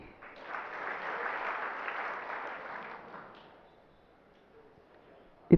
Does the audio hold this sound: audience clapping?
yes